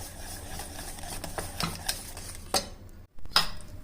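Omelette batter with onion, capsicum, coriander leaves and green chilli is stirred in a bowl for a vegetable oats omelette, making steady close scraping and clinking strokes with two sharper knocks and a brief gap near the end.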